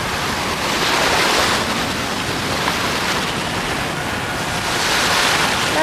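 Ocean surf at Playa del Carmen, Mexico, washes and breaks all around someone standing in the sea, a loud continuous rush with gentle swells and some wind buffeting.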